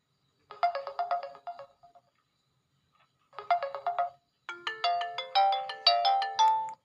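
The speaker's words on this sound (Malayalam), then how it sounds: "എൻ്റെ റിംഗ് ടോൺ കേൾപ്പിച്ചാൽ നല്ല ഒച്ച തന്നെ" A bright electronic ringtone melody from a boAt Wave Sigma 3 smartwatch plays in short bursts, two similar chiming phrases separated by pauses, then a longer rising tune, clear and close.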